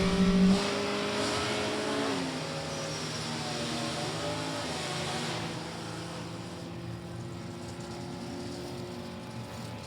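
A Ford 4-cylinder V-stock automatic Mustang launches down a drag strip, its engine droning loud and steady with a shifting pitch as it pulls away, heard alone without talk.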